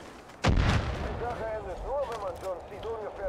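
Gunfire in the video game Far Cry 5, one loud booming shot with a heavy low thump that decays, followed by someone talking.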